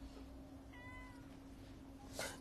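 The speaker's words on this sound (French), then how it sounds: "Qu'est-ce qui fait miaou là devant moi?" A cat gives a single short, quiet meow close by indoors, over a steady low electrical hum, with a faint brief rustle near the end.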